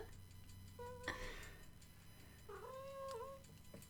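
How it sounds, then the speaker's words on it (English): A cat meows twice, close and clear, with a short call followed by a longer, wavering one over a quiet room background. "we might have a cat walk across the stream."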